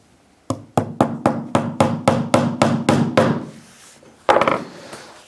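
A hammer strikes a cable clip about a dozen times in a quick, even series of sharp close knocks, then pauses before a final cluster of hits.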